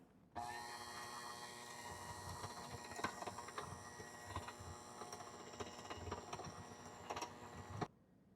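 An electric mixer whirs at low speed while blending instant pudding mix with milk in a 4-cup measuring cup, a steady mechanical motor drone that starts and stops abruptly, with occasional faint clicks of beaters against the cup.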